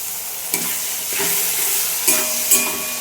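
Water goes into prawn masala frying in a pan, and a loud, close sizzle with steady hissing follows. A spatula scrapes a few times while the pan keeps crackling.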